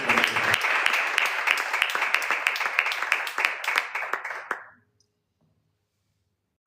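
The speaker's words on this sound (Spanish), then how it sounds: "Le vamos a dar un aplauso a esta palabrita que" A church congregation applauds during a sermon, dense sustained clapping from many hands for about four and a half seconds before stopping abruptly into silence.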